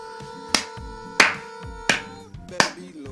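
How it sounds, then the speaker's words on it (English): Four sharp, close claps spaced slowly and unevenly over a few seconds, each ringing briefly over a faint musical background, with no talking. "Jeff clapped in an amusing fashion"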